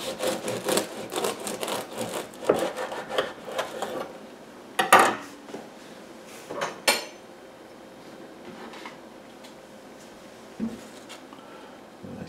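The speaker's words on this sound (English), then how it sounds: "I'm going to take a slice, butter it, and see what it tastes like." A knife spreads butter across a slice of multigrain sourdough bread, making close scraping strokes for a few seconds. After that come a couple of sharp clinks of cutlery on a plate, with long quiet gaps between them.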